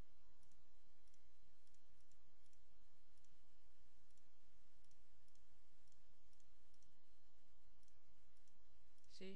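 Faint, rapid mouse clicks tap out text on the Windows Vista on-screen virtual keyboard, quiet and steady throughout against a low background hiss.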